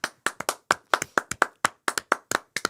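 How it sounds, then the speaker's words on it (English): A small group of podcast hosts clap together at close range, a brisk burst of about twenty distinct, uneven handclaps with no talking over them. "Round of applause for ourselves."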